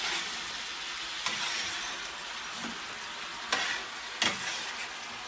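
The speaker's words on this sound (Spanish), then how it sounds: "que se fría bien el tomatito" Tomato frying in oil in a paella pan for paella valenciana, a steady close sizzle with a few scrapes and stirring knocks.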